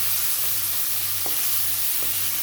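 Chopped onion with ginger-garlic paste fries in oil for a dhaba-style egg masala, a constant close crackling sizzle with a few faint stirring taps and no talking.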